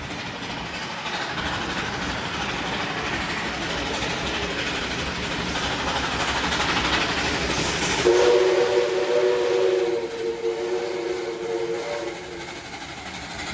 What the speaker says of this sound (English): we see the locomotive charging through Carlton, with Juni Railway Works' 4836 providing assistance at the rear